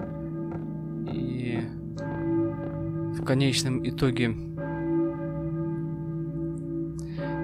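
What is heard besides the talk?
church bell ringing in the video game Silent Hill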